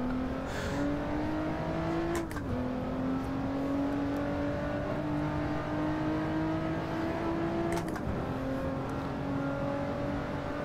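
A Lotus Evora S sports car's engine droning steadily on track, pitch rising as it pulls through the gears, with two quick shift drops and no talking.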